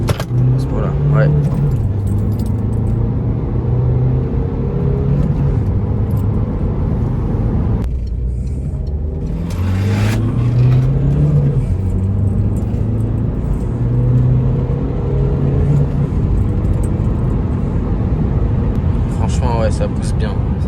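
A Peugeot RCZ with a stage 1 tune pulling hard from inside the cabin, engine note climbing in rising sweeps, easing off, then building again, with someone talking over it and a jingle of keys.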